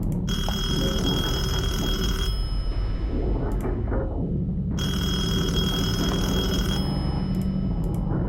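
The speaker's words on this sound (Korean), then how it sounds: "오 옛날 전화기다. 중장이 여기서 전화를 해보겠다고 했었는데 그쪽에서 다시 전화를 해온 건지도 모르잖아?" An old telephone rings in the horror game Detention: two long, loud electric ring bursts, each about two seconds, separated by a pause over a low, droning ambient background.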